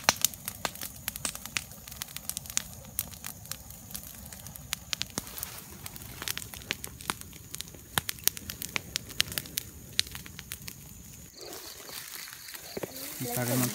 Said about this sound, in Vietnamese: Lửa to hết.